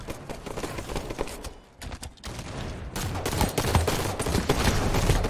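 Heavy gunfire from a Halo 5: Guardians ranked pistols-only match, with dense, continuous rapid shots and impacts that swell louder toward the end, with no talking.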